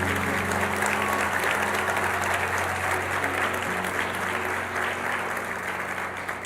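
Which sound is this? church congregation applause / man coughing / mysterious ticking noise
church congregation applause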